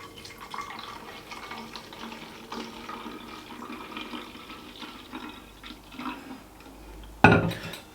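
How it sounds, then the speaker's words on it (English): Water runs into a plastic tub with a steady low splashing and gurgling, fairly quiet and close, ending in a sudden louder rush near the end. "what I'll do now is we'll fill this up with some water"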